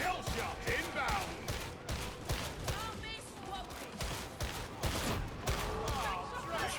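Shotguns fire in a video game. Sharp blasts come in repeated bursts, some loud and close and others softer, mixed with game effects while people talk over them.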